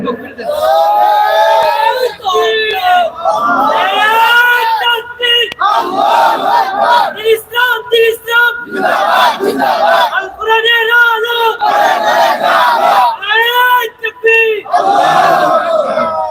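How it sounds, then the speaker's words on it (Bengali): A large crowd at an annual Islamic madrasa sermon gathering in rural Bangladesh roars a loud, sustained unison chant of takbir, rising and falling in repeated waves across the whole stretch. "জোরে সোরে একটা তাকবীর দেন"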